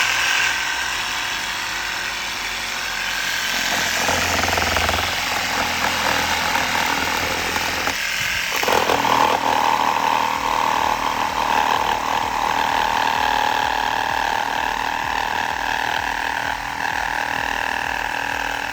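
A Sturm RS8820CL cordless reciprocating saw running on a 6 Ah battery cuts steadily with a loud, continuous buzzing drone, broken by a short pause just past the midpoint before it resumes.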